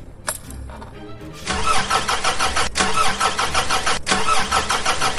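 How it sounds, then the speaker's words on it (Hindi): A car engine in an audio drama cranks in a short burst, then catches with a loud steady mechanical roar that keeps sputtering and cutting out, heard up close with no talk. "कार चालू करने की भरसक कोशिश की गई, पर इंजन आवाज करके शांत हो गया"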